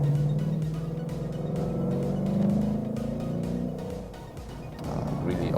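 Ford Mustang Fastback V8 accelerating in third gear, heard from inside the cabin as a steady deep engine drone whose pitch climbs over several seconds before easing off.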